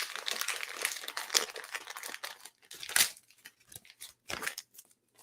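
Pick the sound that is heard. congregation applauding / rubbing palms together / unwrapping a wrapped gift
unwrapping a wrapped gift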